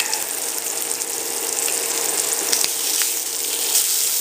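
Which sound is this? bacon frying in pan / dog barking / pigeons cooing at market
bacon frying in pan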